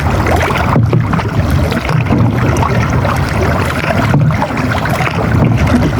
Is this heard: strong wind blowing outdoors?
yes